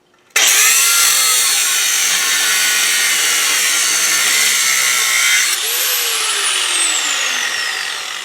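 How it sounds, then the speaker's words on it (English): Power cutting tool chopping off a bolt on a Land Rover Series 2a gearbox, a loud, steady high-pitched grinding whine running continuously for about eight seconds, shifting pitch near the end as the cut finishes. "Gives me a bit of access to chop that bolt off there."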